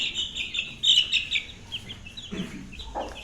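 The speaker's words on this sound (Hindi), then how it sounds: "अभी अगर हमने मुर्गी को खोला ना तो फिर मुर्गी शामू के चूजों को मारेगी।" A hen clucks in a backyard bird setup with chicks nearby, a series of close, raspy clucks and squawks in quick bursts, with no talk.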